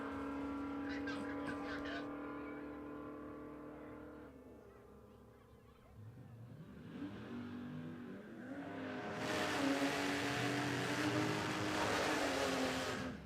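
Drag cars launching off the start line at Warwick Dragway, Australia, with a ute and a Falcon sedan racing side by side, engines rising into a loud broad roar over steady track noise while a commentator talks.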